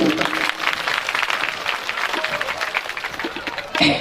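Sustained audience clapping at a Shiv Mahapuran religious discourse held at Kishangarh Balaji temple, a dense, steady round of applause from a gathered crowd, filling the whole span and swelling again briefly at the end.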